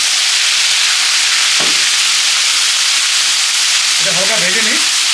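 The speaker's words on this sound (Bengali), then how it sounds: "এটা হালকা ভেজে নিই।" Ginger garlic paste fries in oil with a loud, constant hissing sizzle close up, and a faint voice-like sound appears briefly near the end.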